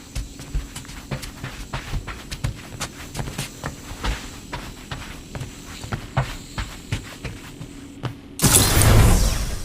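A door opening in Marvel's Guardians of the Galaxy video game: a long series of creaking, clicking mechanical movements with footstep-like taps, ending in a sudden loud rushing whoosh, all without talk.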